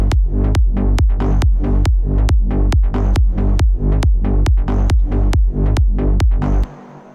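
A layered psytrance bassline rolls in rapid, evenly spaced pulses, each with a sharp click on top and a deep booming decay, driving and loud before cutting away near the end.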